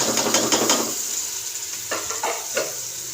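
Soaked mash dal lentils tipped into a pan of sizzling masala for daal mash, a loud crackling fry with stirring scrapes that eases after the first second, then a few short spoon clatters against the pot.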